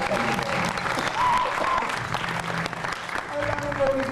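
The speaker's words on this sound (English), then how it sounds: "Could you all give him a big round of applause?" An audience at a reggae film festival screening breaks into steady applause, dense continuous clapping with faint crowd noise and a voice speaking briefly underneath.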